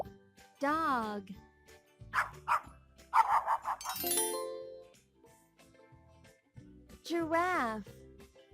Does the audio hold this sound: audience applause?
no